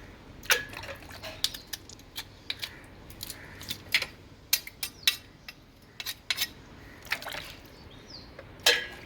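Mussels are cleaned by hand in a bowl of water, giving scattered sharp clicks and clacks of shells knocking together against a faint watery background, close and irregular, with no talking.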